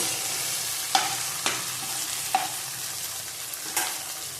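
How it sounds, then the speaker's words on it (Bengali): Taro stir-fried with hilsa fish curry and turmeric in a pan, a steady close sizzle broken by several sharp spatula scrapes and taps at irregular intervals. "গাঁটিটা বেশি ভাজা যাবে না।"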